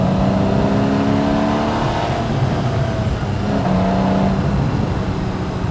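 A Porsche 911 Carrera S of the 991.1 generation, naturally aspirated, revs hard from inside the car, its engine note climbing and falling in two surging pulls over a steady loud drone.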